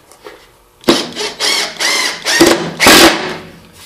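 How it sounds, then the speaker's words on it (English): A cordless impact driver sinks 2-inch deck screws into wood in several close, loud bursts of whirring and rattling, each a second or less, separated by brief pauses. "And took my impact driver. And I'm just using 2-inch deck screws."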